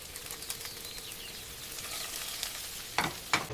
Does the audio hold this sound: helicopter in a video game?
no